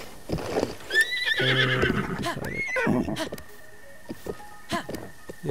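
Horses in Zelda: Breath of the Wild neigh and whinny in rising, wavering calls close by, mixed with clip-clop hoofbeats and scattered game sounds.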